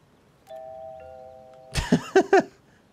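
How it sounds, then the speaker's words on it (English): Doorbell in the video game Hitman 2: a soft, sustained two-tone chime, then a brighter ding-dong with a few clear, ringing strikes, heard alone and close. "ring doorbell."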